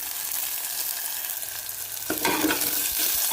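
Chopped onion and ginger-garlic paste frying in hot oil with cumin seeds: a steady sizzle that swells louder partway through, close with stirring sounds, no talking.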